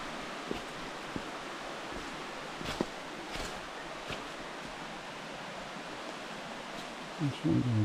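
A rainforest creek near Devil's Thumb in Daintree National Park, Queensland, flows with a steady, soft broadband rush of water, a few faint knocks and a brief voice near the end.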